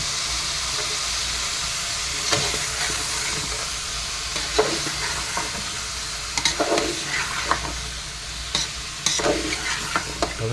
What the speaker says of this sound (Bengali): তবে সবজি ভালো করে কষাইবেন